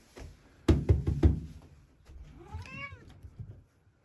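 A domestic cat meows on a washing machine at home, a drawn-out rising and falling meow standing clearly on its own after a few close knocks and bumps.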